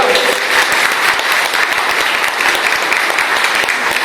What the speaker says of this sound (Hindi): ताली बजा के अपना जोश दिखा सकते हैं